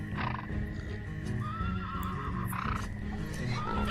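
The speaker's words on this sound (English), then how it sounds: "Oh yeah, we also have our horses, which we finally got." Horses in the colony-building game Banished neigh and whinny loudly, with faint clip-clop hooves beneath and a steady game ambience throughout.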